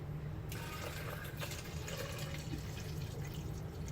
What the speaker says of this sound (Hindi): अब मैं इसके अंदर ऐड करूंगी 2 कप्स वाटर के, 2 कप पानी में ऐड करूंगी